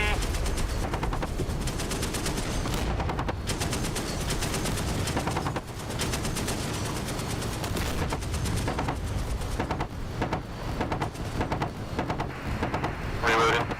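Dense, rapid gunfire fills a DCS World firefight, bursts of automatic fire and shots overlapping almost without pause, loud and close, with voices calling out beneath the shooting.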